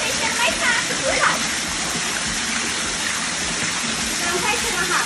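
Water pours steadily into a stone ofurô tub, a continuous close rushing gush with splashy texture that holds level throughout, with a voice speaking briefly over it.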